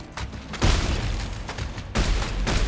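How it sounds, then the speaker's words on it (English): Two heavy, booming blasts of the plasma cutter weapon in the video game Dead Space 3, about a second apart, each with a sharp attack and a long, roaring decay. "the plasma cutter sound like this"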